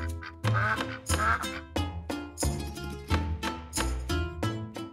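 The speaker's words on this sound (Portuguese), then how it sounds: "Cinco patos brancos." White ducks quack in a steady run of loud, nasal calls, one after another, close and prominent over rhythmic background music, with no voices.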